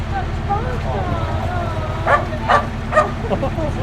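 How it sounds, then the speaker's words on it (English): A Dutch Marshall dog aboard a narrowboat gives a few short yips and whimpers, three sharp barks spaced about half a second apart near the end, close by over a low steady engine hum. "They do, they bark."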